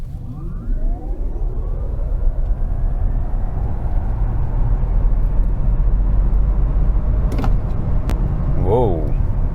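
Audi e-tron S Sportback electric SUV accelerating in its S mode, a steady loud road and tyre rumble with a rising electric whine, a sharp click near the end, and a voice talking.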